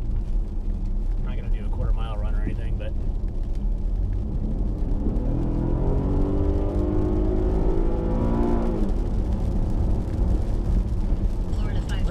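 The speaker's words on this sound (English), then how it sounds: "let's test the acceleration here a little bit." A 2016 Cadillac SRX accelerating on wet roads, a steady engine rumble with a rising whir as it picks up speed, heard from inside the cabin with talk over it.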